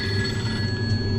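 A phone rings inside a tractor cab, a steady electronic trill with a low engine hum beneath it, no voices.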